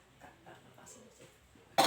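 A single short, loud cough bursts out at the end, following quiet indoor conversation in a counseling session.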